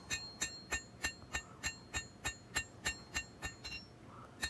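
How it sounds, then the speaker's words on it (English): Steady, evenly spaced hammer blows on a scrap Damascus steel blade as the bevels are forged in, each strike a sharp ringing clink, fairly faint, with no talk. "as I hammer those bevels in, it squeezes the steel and pushes the curve into the edge of the blade"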